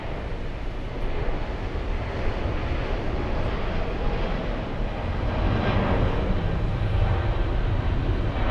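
Steady broadband roar of Air Force One at a New York airport, heard from a distance as a continuous engine rumble with some wind noise and no talking.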